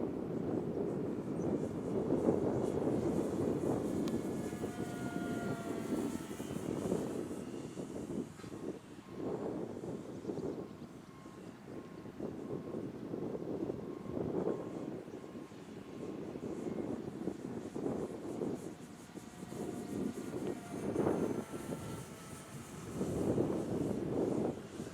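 An E-flite Twin Otter RC model plane flies and comes in to land on a windy day. Its motors hum steadily at middle distance, swelling and fading as it passes, with wind noise throughout.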